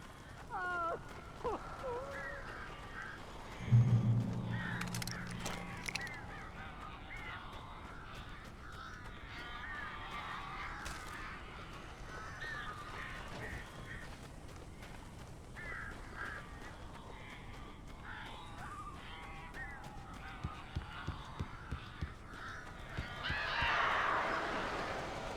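Crows caw in the Alan Wake video game, with scattered harsh calls over a murky, restless game background. Voices speak throughout.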